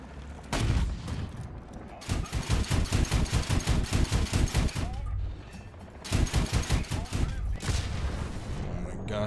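A Stridsfordon 90C's 40mm autocannon fires in rapid, heavy bursts in War Thunder, several sustained volleys of booming thuds with short gaps between them, loud and close, while players talk over the action.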